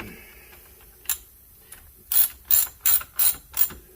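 A ratchet snugs up the bar nuts on a chainsaw during a drum and chain replacement: a few quiet clicks, then five quick, loud ratcheting bursts close by with no talking.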